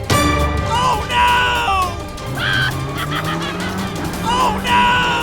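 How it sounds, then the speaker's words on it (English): Toy cars on a small Lego bridge skid and crash down into a ditch, heard as a few loud screeching skid sweeps and impacts mixed with cartoonish sound effects. "The bridge is swept away, making both cars crash bam, into the ditch!"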